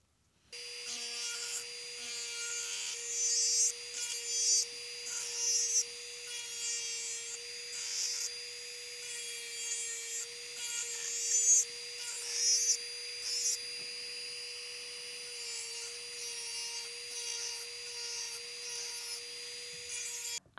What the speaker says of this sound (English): Now we need to remove sticky residue and I will start to file.